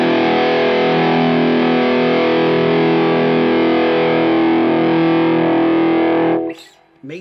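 Distorted electric guitar through fuzz face and Big Muff style fuzz, one long sustained chord ringing loud and alone for about six seconds before cutting off with a short scrape of strings.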